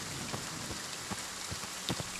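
Steady rainfall in the horror video game Friday the 13th, a soft continuous patter with scattered drop impacts on surfaces, fairly quiet and with no voices.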